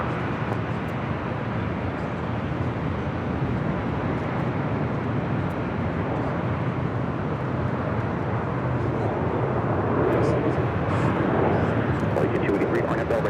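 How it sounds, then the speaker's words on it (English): A large airliner, an Aeroméxico jet departing LAX runway 24 left, roars steadily at a distance in a sustained broadband rumble, swelling slightly near the end, with radio voices and talk over it. "Air Mexico taking off, 24 left"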